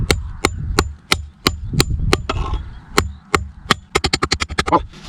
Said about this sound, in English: You see, you can also hammer in with the G10.